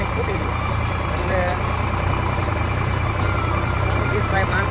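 A tractor hauling a water tank for a village school runs at a steady idle, a continuous low engine drone with people talking over it.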